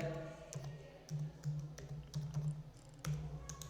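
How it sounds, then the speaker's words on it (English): Keys tapped on a computer keyboard while entering text in an Excel worksheet, a short run of soft, close clicks over a steady low hum, with no talking. "So we will simply type donation here."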